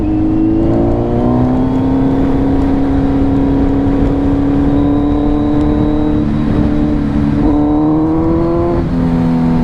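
Kawasaki Z900 motorcycle fitted with a LeoVince full exhaust, engine revving loudly and close by with rising and falling pitch in several sustained pulls, no talking.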